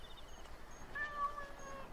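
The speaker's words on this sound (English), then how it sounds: "How do I pet this cat?" A cat in Assassin's Creed Origins gives a short, faint meow over quiet game ambience, standing alone briefly with no voices over it.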